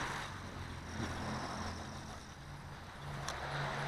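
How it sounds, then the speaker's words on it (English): A GP Toys S603 RC car drives over gravel, giving a steady, fairly faint motor whine with a continuous crunchy rumble and slight surges throughout. "Let's try the gravel a little bit."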